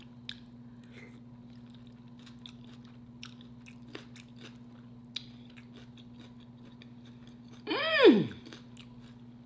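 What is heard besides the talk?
crunching raw jalapenos while eating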